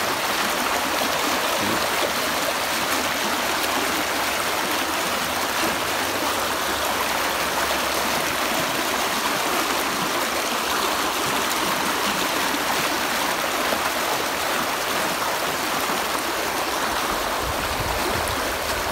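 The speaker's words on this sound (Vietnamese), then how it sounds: "Cái suối rất là trong" A clear forest stream flows steadily, a constant broad rush of water close by that stays unchanged throughout and has no voices over it.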